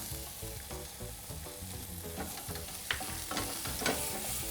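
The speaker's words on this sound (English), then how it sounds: "Nicely saute these till they get like to a lightish brown in color" Chopped onions, ginger, garlic and green chilies saute in a pan for chicken shammi kebabs: a steady close sizzle with stirring clatter and a few sharper spatters, no voices.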